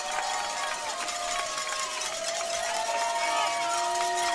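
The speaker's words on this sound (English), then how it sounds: "3rd down here for the defense as the crowd brings a noise" Football stadium crowd roaring on third down at a Shawnee high school game against Coweta, a steady loud wash of voices with whistling and shouts carrying through, heard alone without commentary.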